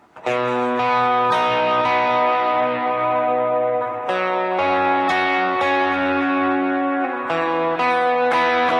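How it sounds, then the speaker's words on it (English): Sustained electric guitar chords ring out with a long, washy reverb tail, each strum blooming and lingering loudly without repeating echoes. "I've got my delay off at this point and just still a pretty long reverb"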